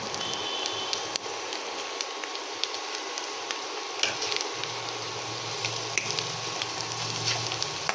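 Chana dal and soybean fry in a pan with cumin-coriander powder and salt, giving a steady, close sizzle and crackle that runs unbroken for the whole stretch with no talking.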